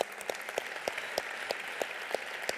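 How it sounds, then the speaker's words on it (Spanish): An audience at an awards ceremony claps steadily with a scattering of sharper, louder claps standing out, continuous applause with no voices. "Un aplauso, por favor, para ellos."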